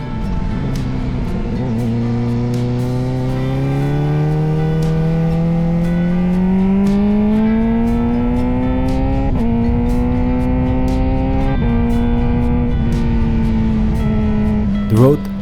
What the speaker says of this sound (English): just me, the bike and the sound of the engine echoing through the trees